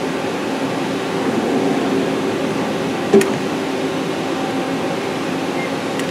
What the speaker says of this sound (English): we're gonna get to look at a gas block being made here